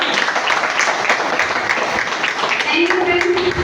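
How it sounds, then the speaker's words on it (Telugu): Audience applause at a closing ceremony, a dense steady crowd clapping that holds loud throughout, with brief voices mixed in near the end. "మేనేజర్ కోసం మరొకసారి బిగ్ క్లాప్"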